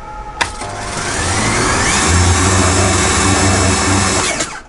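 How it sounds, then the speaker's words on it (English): Power washer running to clean the bilge of an Amel boat: a loud, close, steady motorized whine and spray that starts after a click, holds evenly for several seconds, then cuts off. "Then what you have to do is use your power washer"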